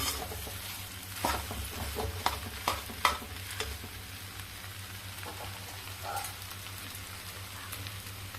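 Chole samosa stuffing roasting in a pan, with a steady low sizzle under repeated scraping and stirring strokes that rise into a few sharper knocks near the middle, close and moderately loud.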